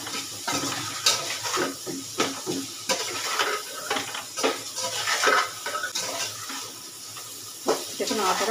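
Mixed rice is stirred in a pan with a metal spoon, giving repeated scraping and clinking strokes over a soft sizzle while a person talks nearby.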